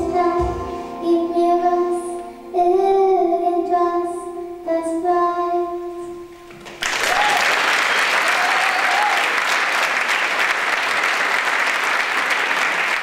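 Audience applause erupts at a Jugendweihe coming-of-age ceremony in Luckau, a dense, loud, sustained clapping that follows a stretch of music and continues steadily to the end.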